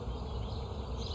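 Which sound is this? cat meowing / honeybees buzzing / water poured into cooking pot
honeybees buzzing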